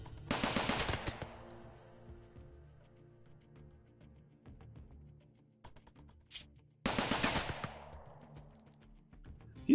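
Gunfire in the colony game RimWorld: two loud bursts of rapid shots, one at the start and another about seven seconds in, with quieter game sounds and a few scattered pops between them.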